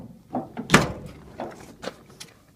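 A metal latch on a portable barn's door being worked open, a few sharp clanks and thunks with one loud knock early on, close by in a quiet space with no speech.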